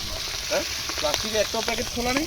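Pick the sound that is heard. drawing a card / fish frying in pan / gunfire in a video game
fish frying in pan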